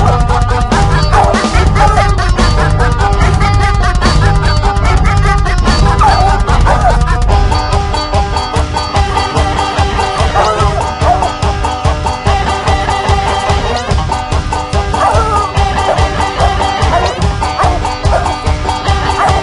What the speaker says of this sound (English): I'm running my dog in the Tennessee Holler, listening to what he's saying.